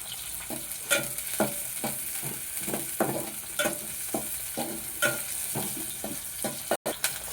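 Garlic and green chillies sizzling hard in a hot pan, with a steady frying hiss broken by repeated scraping stir strokes at a fairly even rhythm, close and loud.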